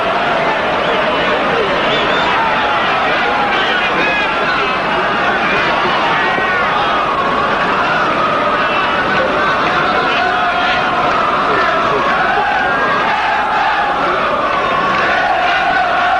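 A stadium crowd at the 1985 European Cup Final between Juventus and Liverpool, subdued and muted, gives a steady far-off murmur with faint shouts for the whole stretch and no sharp cheers.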